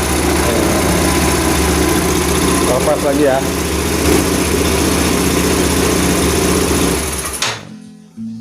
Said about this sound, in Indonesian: Jadi tanpa aki pun motor bisa hidup.